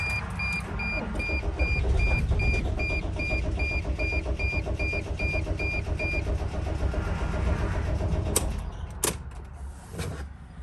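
A 2006 Dodge Sprinter van engine cranking steadily without catching, a rapid rhythmic churning for several seconds that stops, followed by a few clunks, heard close outdoors with no talking.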